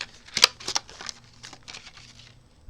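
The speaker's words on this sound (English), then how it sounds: "You might get a pair of these really pretty embroidery scissors." Light metallic clicks and snips from small, sharp embroidery scissors being handled, a few sharp taps followed by softer rustling, close and quiet.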